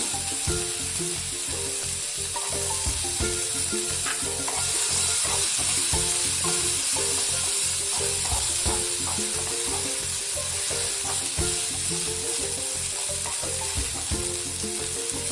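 Raisins fry in a heated pan, giving a loud, continuous sizzle with steady crackling and popping throughout and no voices.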